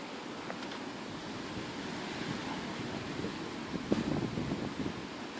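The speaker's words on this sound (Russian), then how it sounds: "Ветер прям очень сильный." Strong wind roars steadily in the open as a bad-weather storm builds, a constant broadband rush with gusty buffeting against the microphone and a sharper surge near the end, no voices.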